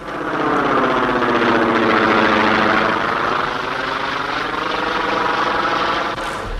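A vintage combat aircraft in flight, the plane that served as the model for the Stuka dive bomber: a steady, loud propeller engine drone holding for several seconds with no talk over it.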